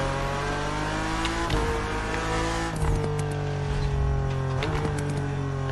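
A borrowed car on a test drive accelerating hard, its engine note climbing through several rising sweeps with brief drops at each gear change, loud and close from inside the car.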